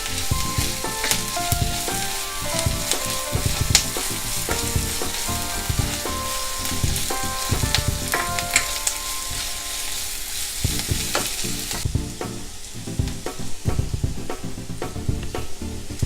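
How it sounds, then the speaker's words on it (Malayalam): Onions sautéing and sizzling in a pan while being stirred for a Malabar egg curry, a steady close frying hiss with frequent scraping and clinking stirring strokes throughout, no talk. "ഇനി ഇത് നന്നായൊന്ന് വഴന്നു വരട്ടെ."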